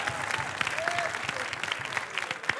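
A studio audience on a TV talk show claps in a close, lively burst of many hands, with a few louder individual claps and some voices underneath.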